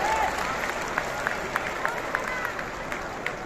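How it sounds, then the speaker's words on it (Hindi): Audience applause at a BJP welcome event for the party's national president in Patna's Bapu Sabhagar hall: steady, distant crowd clapping with faint voices mixed in. "ताली बजाइए भाई, ताली बजती रहनी चाहिए।"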